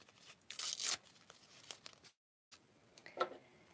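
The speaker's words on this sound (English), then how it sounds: "And I like tearing it." A piece of paper is torn in a sharp ripping burst, then a quieter crinkle follows after a brief pause, close and clear with no voices.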